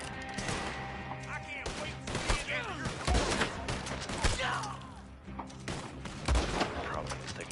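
Gunfire in the video game Red Dead Online, a rapid string of loud, sharp shots and bursts firing in clusters over several seconds, with scattered thuds and a voice talking underneath.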